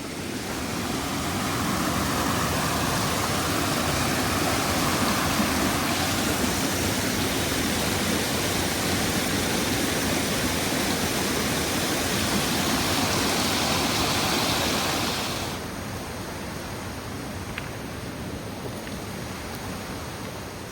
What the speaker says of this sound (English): I proceeded to climb up the waterfall to get a view from above.